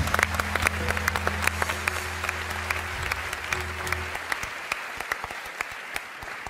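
Studio audience at a Turkish TV talk show giving sustained, even applause with sharp individual claps, over a low steady hum that fades midway.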